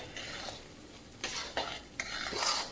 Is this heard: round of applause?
no